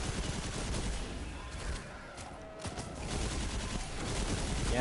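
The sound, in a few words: gunfire shooting a boss in Destiny 2 video game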